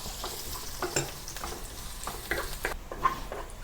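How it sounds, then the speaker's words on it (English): Garlic and shallots sautéing in hot oil in a pan for a noodle gravy, a soft sizzle broken by scraping stirs at irregular intervals, close and fairly quiet with no talk. "Heat some oil in the pan to saute the garlic and shallot."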